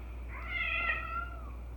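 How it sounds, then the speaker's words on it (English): A single drawn-out cat yowl, close and moderately loud, rising and falling over about a second against a quiet indoor background, from cats fighting. "hopefully you don't see the cats fighting"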